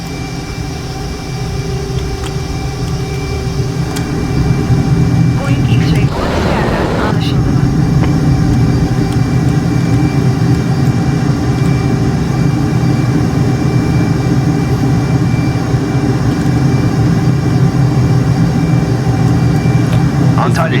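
In Flight Simulator 2024, a Boeing airliner sits at takeoff before a Cyprus flight, and its engines give a steady, loud low roar that builds slightly and holds throughout, with a brief rushing swell partway through.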